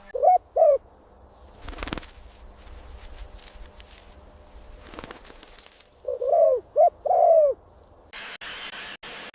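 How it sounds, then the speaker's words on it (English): A flock of birds returning to a tree to roost coo in short repeated pairs, pausing between bursts, with soft rustling in between and a brief hiss near the end. "The flocks of birds return to the tree to sleep, transforming the bare branches into a lively cloud."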